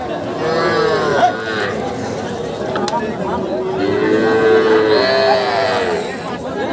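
Young bull calves moo loudly and repeatedly at a crowded rural cattle market, the long drawn-out calls overlapping with constant chatter from people nearby.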